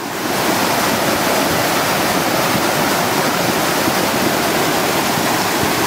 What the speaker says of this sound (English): You can hear the rocks. The rocks are just tumbling through here.